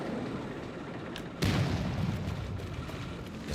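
A tank cannon firing in a video game battle, one heavy boom landing about a third of the way in and ringing out over steady rumbling background combat noise.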